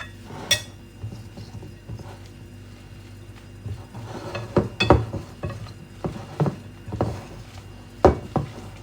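A spoon stirs chocolate zucchini cake batter in a bowl, with soft scraping and intermittent clinks and taps against the bowl, fairly close and irregular over a quiet kitchen background.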